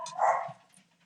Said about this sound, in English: I'm so sorry about the dogs, you guys.